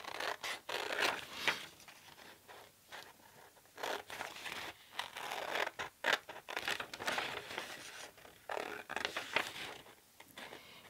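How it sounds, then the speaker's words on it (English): Scissors cutting out a paper quilt block, heard as a continuous run of close crisp snips and papery rustling and scratching, rising and falling in bursts with no talking. "So you just basically go through and cut out the block."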